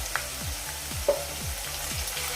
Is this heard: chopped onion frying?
yes